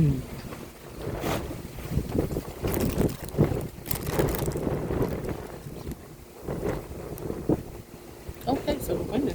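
Gusty wind blowing outdoors, rising in strength, with low rumbling buffeting against the microphone and bursts of broadband rush over about nine seconds, while a person talks intermittently.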